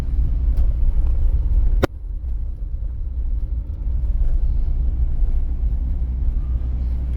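Car driving straight along a city road on a driving exam route in Ivano-Frankivsk, a steady low engine and tyre rumble from inside the cabin, with a brief sharp click early on.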